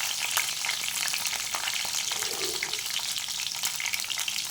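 Green chillies fry in a pan for a Kerala-style chicken curry, giving a soft, steady sizzle with faint crackles and occasional stirring scrapes. The sound is quiet and close, with no voices.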